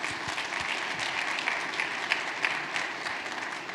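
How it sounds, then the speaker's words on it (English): Steady audience applause at a cleantech accelerator demo day evening event. Dense, even clapping from a crowd fills the room for several seconds, fairly loud, with a few sharper claps standing out. "big round of applause for all of our donors that have been here over the last 5 years helping grow this"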